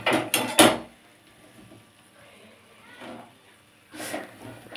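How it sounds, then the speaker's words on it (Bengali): Thinly sliced bottle gourd tipped a little at a time into a pan of fried spices for a vegetarian lau ghonto: a quick cluster of close clattering drops at first, then quiet, then two softer bursts of sizzling and stirring. "এইবার আমি অল্প অল্প করে লাউ দেবো।"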